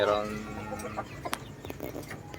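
Backyard chickens, a neighbour's three sibling mayahin birds, give short clucks nearby, mixed with a voice and brief rustling in a quiet outdoor yard.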